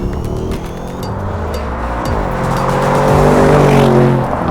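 An Audi RSQ8 SUV engine revs and accelerates steadily, its rising drone loud and continuous throughout, with no voices.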